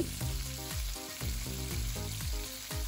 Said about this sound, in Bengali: এবার আমার কাটা পেঁয়াজ আমি এর মধ্যে দিয়ে দিচ্ছি, লবণ দিচ্ছি, আপনারা দিবেন স্বাদ অনুযায়ী, দিয়ে ভালো করে নেড়ে নিচ্ছি।